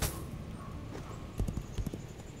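Horse hooves clip-clop steadily beneath a mounted rider in the fantasy online game Legends of Aria, a soft rhythmic patter with a few louder hoofbeats near the middle, heard over faint ambient game sound.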